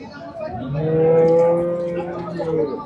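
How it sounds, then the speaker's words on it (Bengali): A single drawn-out, low moo from a nearby cow at a cattle market rises and holds for about two seconds, with faint background murmur around it. "এই যে দেখতে পাচ্ছেন কিছু গরু।"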